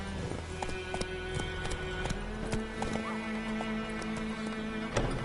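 Roach the horse gallops in The Witcher III, with quick, steady hoofbeats up close and an occasional whinny among them.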